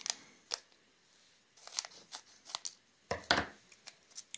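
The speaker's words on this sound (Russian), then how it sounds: "разрезаем один пакетик" Scissors snip open a Nimesil powder sachet in several short, sharp cuts with brief crinkles of the packet, close up and quiet, with no voices.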